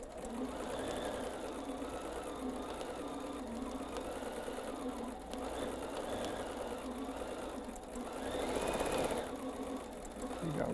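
A sewing machine stitching fabric at high speed, a steady fast whirring hum, continuous throughout, briefly rising near the end as the pace picks up; a person speaks faintly over it.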